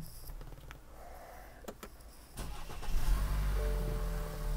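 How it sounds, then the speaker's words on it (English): A car engine cranks and catches with a short starter whir, then settles into a steady, low idle inside the cabin, heard fairly close and alone. "The engine's on."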